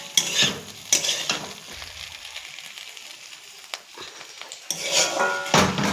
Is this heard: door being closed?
no